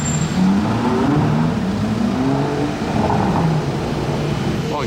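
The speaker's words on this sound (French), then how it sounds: "Départ de la 812 GTS à présent" Ferrari 812 GTS V12 pulling away on a street in Monaco, a loud, deep engine note that rises through revs and holds as it drives off nearby.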